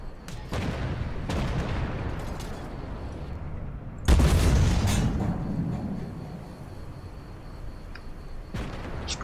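Tank cannon and RPG fire in the video game Armored Warfare, several heavy booming blasts with long rumbling decays, one louder hit near the middle, over continuous engine rumble.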